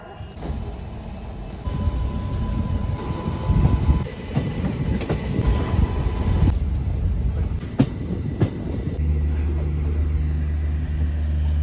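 The 12311 Netaji Express rolls into Kalka railway station, its wheels clattering and rumbling over the rails with sharp clanks, before settling into a steady low hum as it slows.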